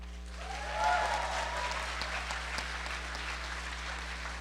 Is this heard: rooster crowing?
no